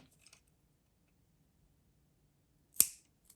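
Scissors snip once through the knotted cord end of a handmade bohemian earring, a single crisp close cut in a near-silent room after a couple of faint taps.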